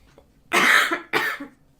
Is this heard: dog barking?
no